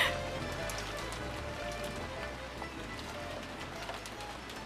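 Steady wind and rain ambience from the video game Umineko: When They Cry, a continuous wash of rainfall with low rumbling gusts, holding at an even moderate level throughout without voices.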